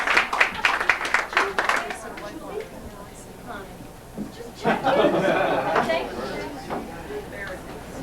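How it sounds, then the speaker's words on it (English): Audience applause at an orchid show opens the stretch with a burst of sharp, scattered claps, then thins out as a voice takes over and carries on talking and singing. "let's have a big round of applause"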